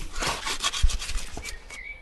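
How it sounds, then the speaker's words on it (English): A spade scrapes and rubs through soil while digging up a plant pot in a garden, a quick run of gritty close scrapes with a soft thud, fairly quiet with no talk. "So let's get stuck in with a bit of digging."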